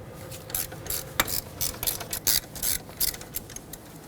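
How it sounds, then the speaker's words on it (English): Ratchet wrench clicking as it loosens a 12mm brake hose bolt on a 2006-2010 Hyundai Sonata, in short bursts of quick ratcheting with small pauses, close and fairly quiet. "we have to remove a 12mm bolt holding on the brake hose"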